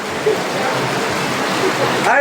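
Heavy rain pours down outdoors during a DJ setup at a haldi celebration, a dense, loud, steady wash of falling water with a voice briefly heard over it near the end.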